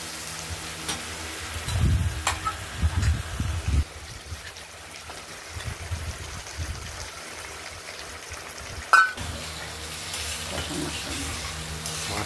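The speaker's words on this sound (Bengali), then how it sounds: "হলুদটা দেওয়া হলো। এবার একটু কষিয়ে নিতে হবে।" Katla fish head sizzles with turmeric in a hot pan, a soft frying hiss with several louder stirring scrapes and one sharp clatter, close by.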